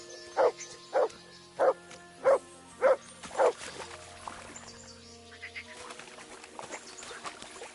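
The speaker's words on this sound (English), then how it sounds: "Good dog, Mats." A dog barks six times in an even rhythm in Kingdom Come: Deliverance II, loud and close, over a soft musical backdrop that carries on alone afterward.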